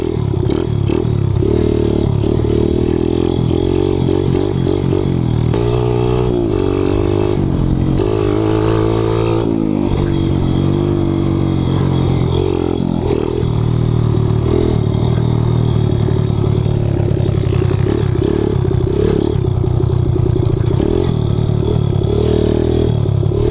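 A Kawasaki KLX 110 pit bike is ridden close by, its small engine buzzing loudly and continuously, repeatedly revving up and easing off through gear changes and bumps with no talk.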